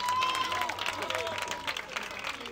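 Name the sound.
applause for a Muay Thai fighter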